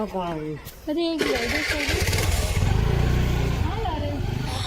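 A motorcycle engine cranks and catches after a brief spoken voice, then settles into a steady, close rumbling idle.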